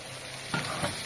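Chicken liver hitting a hot pan to fry alongside gizzards: a sudden loud sizzle bursts up and then keeps crackling close by, with a second surge a moment later and no speech.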